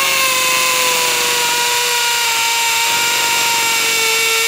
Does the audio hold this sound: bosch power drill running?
yes